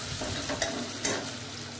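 Urad dal and chana dal roast in hot tempering oil, a soft, low sizzle running steadily beneath two small sharp clicks from stirring.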